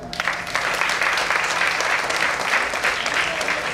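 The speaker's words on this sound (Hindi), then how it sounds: "एक बार जीतू भाई के लिए बड़ी बड़ी तालियां" Audience applause for Jeetu bhai at a saree showcase, a dense, steady wash of many hands clapping close by for several seconds without talk.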